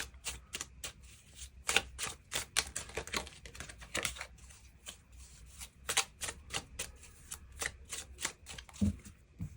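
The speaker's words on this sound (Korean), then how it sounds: "추가 카드 뽑아보도록 하겠습니다" Tarot cards are shuffled and drawn close up, a rapid run of crisp riffling flutters and soft slaps in uneven bursts, fairly quiet with no talking.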